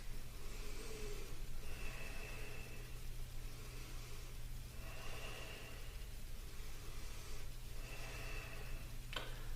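Slow, deep breaths are taken while holding a yoga lunge stretch with the arms raised. Faint inhales and exhales repeat every couple of seconds over a low steady background hum.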